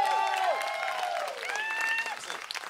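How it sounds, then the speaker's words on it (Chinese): An audience gives a warm round of applause for a band on stage, a continuous crowd clapping at moderate level, with whistling or tonal cheers sliding over it. "通常这个时候要一个热烈的掌声。"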